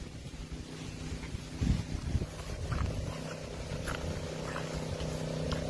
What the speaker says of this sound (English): The noise you hear is the generator.